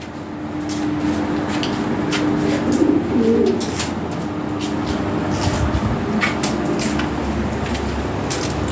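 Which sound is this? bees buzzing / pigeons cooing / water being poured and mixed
pigeons cooing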